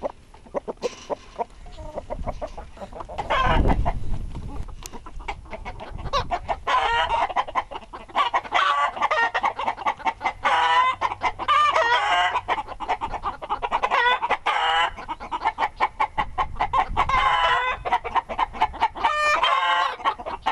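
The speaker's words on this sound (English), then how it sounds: "animals such as poultry and other fowl, including chickens, geese, ducks, pigeons," Chickens clucking steadily in a busy flock, close and continuous, with a rooster crowing once or twice above the chatter and no voices.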